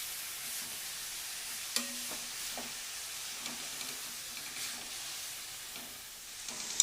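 Grated carrot frying in ghee for carrot halwa gives a steady, soft sizzle with scattered stirring scrapes and a few brief clicks, close by and fairly quiet, with no talking.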